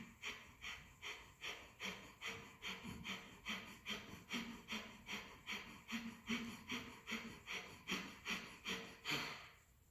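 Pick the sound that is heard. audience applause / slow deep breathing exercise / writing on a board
slow deep breathing exercise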